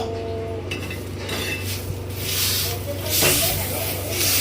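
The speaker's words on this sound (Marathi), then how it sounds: "तव्यावर मस्तपैकी पाणी मारून घेतलं" Water splashed onto a hot tava griddle hisses and sizzles in broad bursts, rising louder toward the end amid clattering pots and utensils in a home kitchen.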